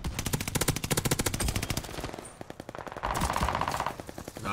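An Automaton automatic rifle fires in Call of Duty: Vanguard in loud, rapid, sustained bursts, with a brief gap before another long volley.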